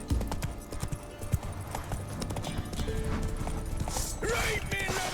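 Horse hooves clip-clop at a steady walking rhythm in The Witcher 3, close and moderately loud over a game ambience, with a brief whinny or voice near the end.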